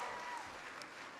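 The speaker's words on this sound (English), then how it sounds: "Can everybody give Emilio a big round of applause for that great introduction?" Applause from a high school audience in Syracuse, New York, a steady broadband clatter of clapping hands filling the room without a break, sustained and fairly even throughout the short stretch.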